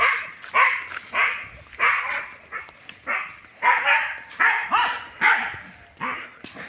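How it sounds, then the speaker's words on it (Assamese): A dog barking repeatedly in a rough, steady rhythm of about a dozen loud excited barks, some whiny and yelping, fairly close by outdoors. "সেয়া চাওক কুকুৰটোৱে কি কৰি আছে"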